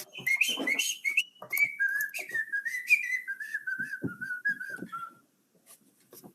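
A person whistles a wavering, sliding tune of linked notes close to the microphone, with faint breathy gaps between phrases, during an online council planning committee meeting, fading to near silence at the end.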